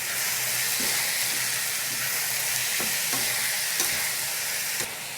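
Dal and onion mixture stirred in a hot pan, with a steady loud sizzle and hiss running throughout and faint periodic scrapes of a spoon against the pan.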